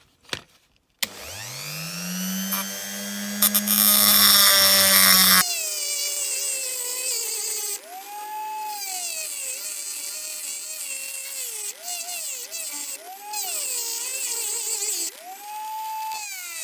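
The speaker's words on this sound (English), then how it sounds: "I'm just off to grind the hook off the back of here with the multi-tool." Rotary multi-tool grinds the hook off the back of a diecast Matchbox Scammell pipe truck, a loud high whine that revs up, holds, then drops into a sustained grinding tone with repeated pitch swells as it bites the metal.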